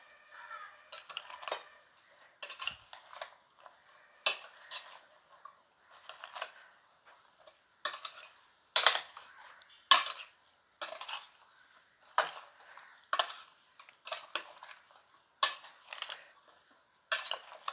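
A spoon mixing pineapple salad with chilli powder, crushed dried chilli and salt in a bowl, a series of crisp clinks and scrapes in irregular bursts across the whole stretch, close and clear with no talk.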